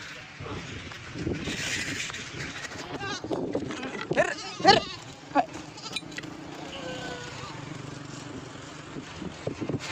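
Several goats bleat close by, their calls bunched in the middle, with faint voices and outdoor noise around them.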